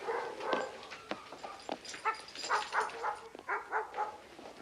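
A white poodle whimpers and yips close by in a series of short, uneven cries, with a few brief barks mixed in and no talk over them.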